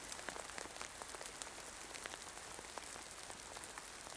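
Steady rain patters on a hard surface at a forest camp north of Mount Rainier, countless close drops tapping in a dense, even hiss with no voices.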